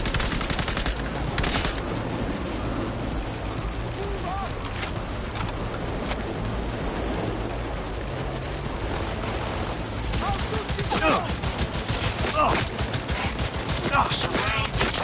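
Sustained automatic weapon fire in the video game Cyberpunk 2077, a dense crackle of overlapping bursts and sharp shots with thumping impacts, loud throughout, with combat voices underneath.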